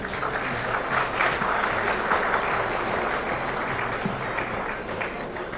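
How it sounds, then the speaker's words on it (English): A large conference audience at the India Today Conclave gives warm applause to esteemed guests being honoured on stage, a steady, even wash of clapping heard alone at moderate loudness. "Ladies and gentlemen, a warm applause,"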